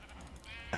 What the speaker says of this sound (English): You stupid sheep.